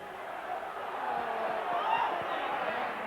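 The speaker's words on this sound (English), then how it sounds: "Salford crowd cheering" Crowd at a 1997 Leeds versus Salford rugby league match, with Salford supporters raising a broad, steady roar that swells slightly midway, carried under a commentator's voice.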